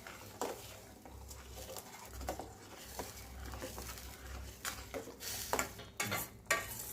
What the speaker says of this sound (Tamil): சேர்த்து எல்லாத்தையும் நல்லா கிண்டி விட்டுக்கலாம்.